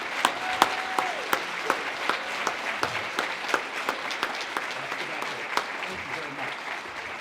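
An audience applauds children after a performance at an evening awards event, with sharp distinct claps ringing out over a softer steady wash of clapping, while a voice talks over it and a brief tone sounds early on.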